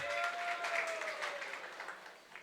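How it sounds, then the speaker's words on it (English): Applause rises from the audience at a youth spiritual gathering as a participant is called up, a fairly faint, distant patter of clapping with a thin tonal line underneath, fading slightly toward the end. "Big round of applause for Ashish Prabhu."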